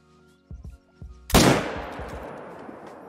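A single loud, close rifle shot rings out in the hunting video game theHunter: Call of the Wild, after a few soft footsteps, and its echo fades slowly over the next couple of seconds.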